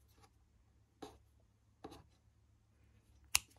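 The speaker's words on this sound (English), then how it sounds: "now I'm gonna cut my tassels and I will trim them up" Scissors snip through crocheted yarn tassels in three separate quiet cuts spaced about a second apart, the last the sharpest, against a faint low hum.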